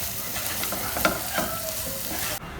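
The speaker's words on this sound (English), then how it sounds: "give it another good stir" Prawns balchao, a Goan prawn pickle, being stirred in a hot pan: a steady sizzle broken by a few scraping spoon strokes, loud and close, ending abruptly, with no talking.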